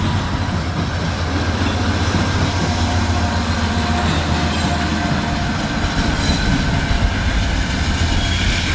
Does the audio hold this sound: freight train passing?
yes